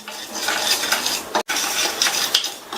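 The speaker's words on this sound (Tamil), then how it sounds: "இந்த உப்புல உள்ள ஈரத்தன்மை போகிற அளவுக்கு நல்லா இந்த உப்பை வறுத்துக்கலாம்" Rock salt is dry-roasted in a pan and stirred with a utensil. Continuous gritty scraping and rattling sounds up close, with one brief pause midway and no talking.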